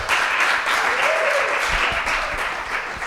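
A church congregation clapping for newly baptised members, a steady burst of applause from a room full of people, moderately loud and continuous.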